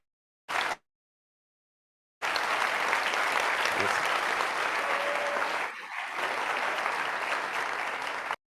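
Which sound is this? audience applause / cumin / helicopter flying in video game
audience applause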